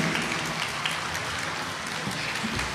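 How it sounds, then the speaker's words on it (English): An audience at a university Tamil heritage month festival applauds after a performance, a dense, even wash of clapping heard from within the hall for the whole stretch. "Can we give it another round of applause for this beautiful performance?"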